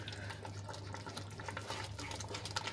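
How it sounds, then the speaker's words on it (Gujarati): Semolina being stirred into grated potato that has been cooking in a pan, giving a steady soft scraping and mixing sound under a constant low hum, with no talking. "હવે એમાં આપણે સૂજી એડ કરી લઈશું અને સરસ રીતે આપણે મિક્સ કરી લઈશું"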